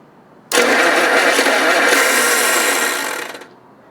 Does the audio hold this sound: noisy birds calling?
no